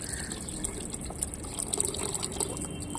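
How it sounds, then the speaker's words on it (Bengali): Water soaked with mustard cake is poured into soil in an old lotus pot, giving a continuous soft gushing and splashing at moderate volume. "সর্ষের খোলের জলটাই আমি দিয়ে দিচ্ছি।"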